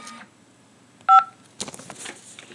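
A single telephone keypad tone from a prison phone call system, pressed to accept an incoming collect call, sounding as one short, clear beep before a burst of other noise.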